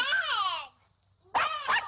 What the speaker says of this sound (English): Don't put the dog on the table.